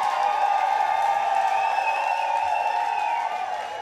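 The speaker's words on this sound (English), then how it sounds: "how about a little round of applause for Mr." A live crowd at a blues show in a music hall applauds and cheers for the band's bassist, a steady wash of clapping and whoops that holds evenly and tapers slightly at the end.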